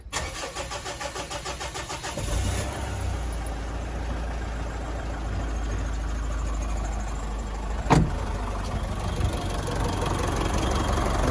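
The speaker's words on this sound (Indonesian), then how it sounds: "Suara mesinnya ini sangat unik" A small passenger vehicle engine cranks and catches, then settles into a steady, loud, close idle with a faint knocking rhythm, heard alone without any talk.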